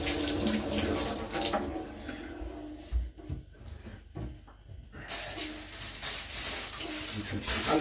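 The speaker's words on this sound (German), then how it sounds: "So, eben kurz meine Hände waschen." Tap water running into a kitchen sink during handwashing, a steady close splashing hiss that dips briefly as the hands break the stream, then pours on at full flow.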